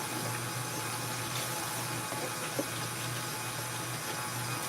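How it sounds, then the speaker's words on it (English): Tap water runs steadily into a kitchen sink while dishes are washed by hand, a continuous close hiss and splash with a faint clink midway. "I'm just doing dishes here."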